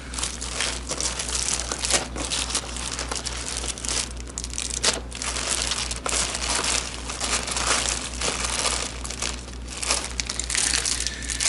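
Sleeved cards for the Myth board game being handled and sorted, a continuous close crinkling and rustling of plastic sleeves with sharper crackles scattered throughout.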